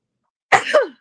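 A single sharp, close sneeze, a burst of breath and voice lasting about half a second after silence.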